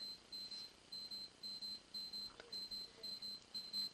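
An alarm clock beeps, apparently from an office, in a steady pattern of short, bright, repeated bleep bursts with brief pauses between them, clear and alone over a quiet room background.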